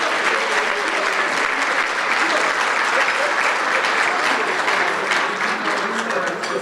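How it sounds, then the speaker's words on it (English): An audience at a community awards ceremony claps loudly and continuously, a dense, even wash of applause that holds steady throughout. "Please give them a round warm of applause."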